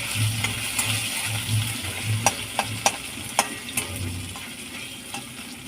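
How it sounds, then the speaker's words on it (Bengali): Nigella seeds and ginger paste fry in hot oil in a pan, a close steady sizzle broken by sharp metallic clicks and scrapes from a spatula stirring in irregular rhythm. "কালো জিরা দিলাম আদা বাটা একটু দিলাম নাড়াচাড়া করে নেব"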